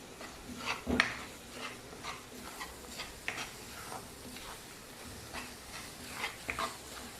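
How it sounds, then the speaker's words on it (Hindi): Whole spices and chillies frying in a pan, a soft continuous sizzle with occasional pops and crackles, one sharper crackle near the start, heard alone without talk. "अभी हम इसको थोड़ा सा फ्राई करेंगे और थोड़ी सी मिर्चें भी डाल देते हैं इसमें।"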